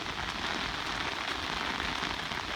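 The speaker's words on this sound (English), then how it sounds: "This is not even a bad rain." Steady rain falls hard and evenly on a back yard in Sugar Hill, Georgia, a continuous hiss of drops pattering on surfaces with no voices.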